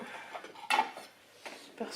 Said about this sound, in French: je vais finir ma vaisselle, il me reste juste un biberon